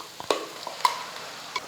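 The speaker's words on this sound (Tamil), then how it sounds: "நம்ம புதினா விழுது அரைச்சதை சேர்த்துக்கலாம்" Ground mint paste meets sautéed onions in a hot pan, giving a faint, soft sizzle broken by a few quick scraping and stirring clicks close by.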